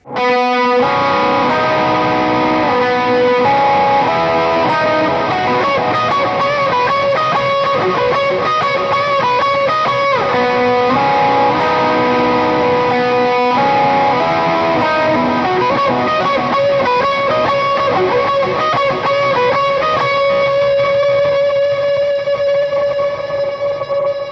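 Electric guitar run through a Two Notes Genome and Neural Amp Modeler in a worship-style setup, playing steady chords and lines with a long, washing reverb tail that sustains continuously and loudly throughout.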